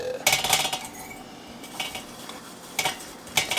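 Potatoes being turned over in an air fryer basket, with several bursts of metallic clattering and scraping separated by quiet pauses, close and alone.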